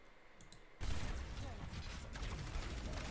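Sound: Zarya firing her weapon at the bubble, Overwatch video game

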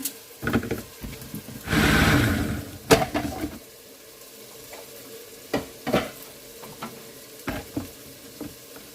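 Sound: stirring vegetables in a frying pan

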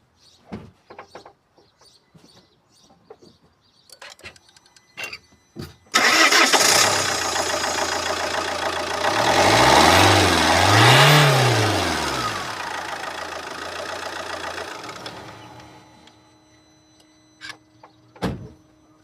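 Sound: Fiat Croma 1.9 diesel engine starting and idling

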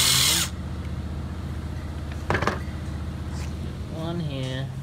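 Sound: removing two bolts from a car engine

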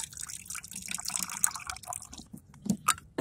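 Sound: draining corn juice from a can

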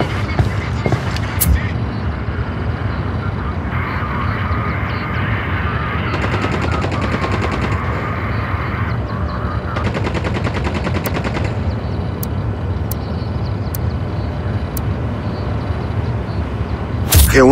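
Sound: gunfire exchange in a video game

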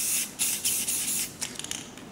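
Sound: spray paint can spraying white paint

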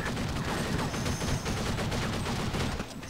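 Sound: machine gun gunfire in Counter-Strike 1.6 zombie mod video game

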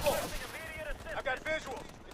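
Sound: RPG weapon firing in video game Call of Duty Advanced Warfare

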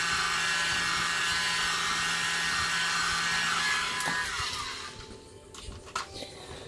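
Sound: small air blower used for pigment bloom painting

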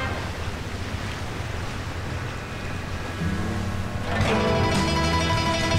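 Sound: boat on water in video game

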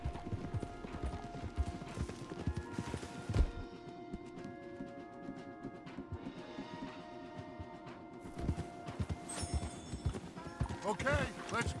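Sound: horses walking in Red Dead Redemption 2 video game

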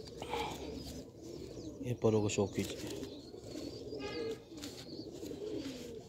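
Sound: pigeons cooing

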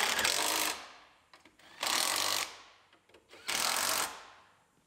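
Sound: power tool tightening strut nuts on Grand Am

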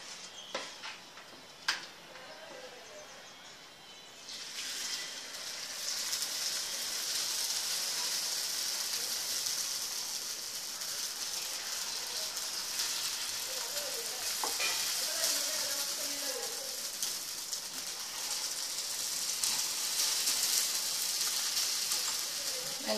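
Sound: paniyaram batter sizzling on hot pan

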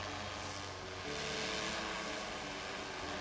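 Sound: UAV-Nano drone descending with legs down

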